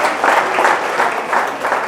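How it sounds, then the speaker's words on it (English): The crowd at a children's book launch in a bookstore applauds Soha Ali Khan and Kunal Kemmu, a thick, continuous wash of clapping, fairly loud and close. "So please give them a big round of applause."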